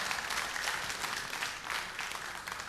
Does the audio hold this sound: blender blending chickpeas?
no